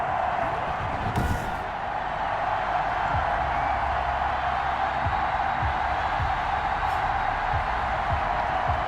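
A packed NFL stadium crowd awaits a Tennessee Titans versus Indianapolis Colts game, its dense, steady roar filling the whole stretch at high volume with no clear peaks or pauses.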